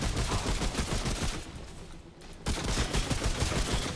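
Rapid gunfire in the video game Remnant From The Ashes, a dense loud stream of shots that briefly thins out midway and then resumes at full intensity.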